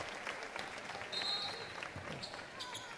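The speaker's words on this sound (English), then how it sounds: "standing ovation from the crowd, by the way" A crowd at a girls' varsity high school basketball game on senior night gives a standing ovation, with steady applause and cheering filling the gym and a few sharp bursts standing out.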